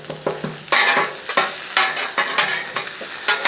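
Butter sizzling and crackling on a Blackstone griddle with pork fried rice and peas, stirred by a spatula, giving close, steady frying hiss broken by repeated scraping and stirring clatters, with no talking.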